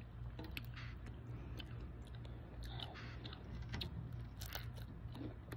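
Close, crunchy chewing of dried fish eaten with rice at dinner, a steady run of brittle crackles and bites repeating without pause, with no talk over it.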